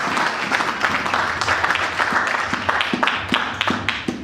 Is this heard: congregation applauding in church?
yes